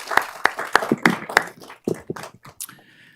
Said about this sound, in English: I'm sure they would appreciate a round of applause.